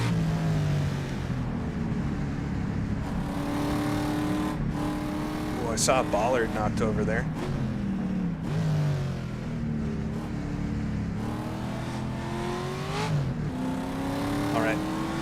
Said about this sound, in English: Hear a lot of other cars.